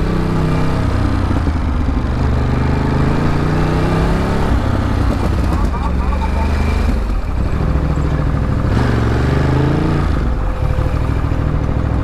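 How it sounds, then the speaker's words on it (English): A moped rides along a New York City sidewalk in the Bronx, its engine droning steadily and loudly for several seconds amid traffic noise, with no voices over it. "He's on a moped on the sidewalk."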